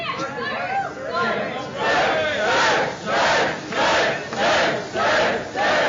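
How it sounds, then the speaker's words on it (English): A large crowd chants Serj Tankian's name in a steady, repeating rhythm, loud bursts of voices rising and falling in regular pulses with background chatter early on. "everybody start chanting Serj's name"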